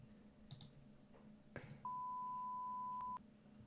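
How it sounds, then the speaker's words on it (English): Basic game sensor beep for a ring toss roguelike, a single clean steady electronic tone lasting about a second and a half, preceded by a few soft clicks in a quiet room. "It's a very basic beep sound."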